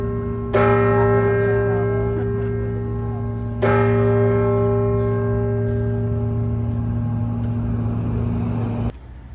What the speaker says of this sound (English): The bells you'll be hearing in a few minutes is right outside Independence Hall